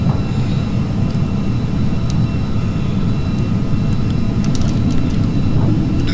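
Steady, loud jet engine roar from a Carenado Falcon 50 climbing out after takeoff from KFLL in the Prepar3D flight simulator, continuous and broadband without a break, with no talk over it.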